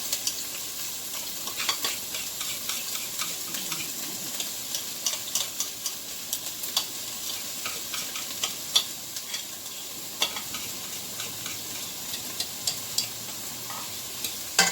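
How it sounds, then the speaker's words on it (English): Vegetable beef soup sizzles steadily in a pot, a bright crackling hiss, with frequent small taps and scrapes from stirring and no talking. "That's that sizzle you want to hear."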